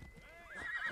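A horse in the video game Assassin's Creed Odyssey whinnies in a rising, wavering neigh, close and fairly loud, over a soft background rumble.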